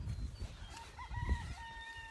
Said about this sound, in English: Oh, there's one of the roosters.